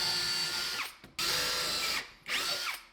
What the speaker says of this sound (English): I can go ahead and pre-drill in here